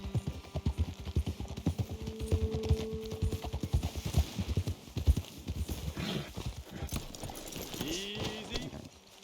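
Steady clip-clop of horse hooves walking at an even pace, close by, with a short whinny near the end, in the video game Red Dead Redemption.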